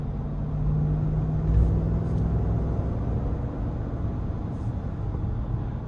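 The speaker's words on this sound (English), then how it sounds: "I'm gonna put in a sport mode and floor it and see what it's got" A 2025 GMC Yukon AT4 Ultimate in sport mode, its engine droning low and steady under hard acceleration, with a continuous cabin rumble holding for several seconds in traffic.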